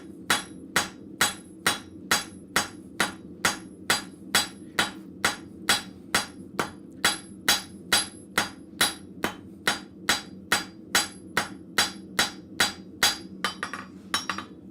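Blacksmith striking hot metal with a cross peen hammer, a long run of sharp, evenly spaced ringing blows about two per second, with faint clinking near the end.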